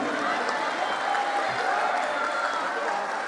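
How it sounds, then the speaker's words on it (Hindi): An audience at a religious gathering in Dubai claps in a steady, sustained round of applause, dense and even throughout with a crowd murmur mixed in. "इनके लिए एक बार तालियां।"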